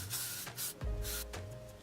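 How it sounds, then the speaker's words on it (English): L'Oreal extra strength hairspray hisses onto hair in several short, close bursts, separated by brief pauses and soft rubbing. "I have the L'Oreal hairspray extra strength, so I'm just going to try and spray this"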